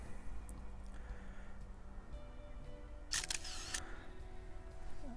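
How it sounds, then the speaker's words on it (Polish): A smartphone camera shutter clicks once, quick and close, while photographing a car's measured body panel with a GL Smart 8 paint thickness gauge, against a faint steady hum. "Zróbmy jeszcze jedno zdjęcie."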